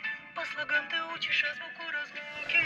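A friend's song plays through the small built-in speaker of a Lamtto 4K dash cam, thin and tinny with a steady melodic line and harmonics, fairly quiet and continuous.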